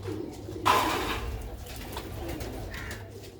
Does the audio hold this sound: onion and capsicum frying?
no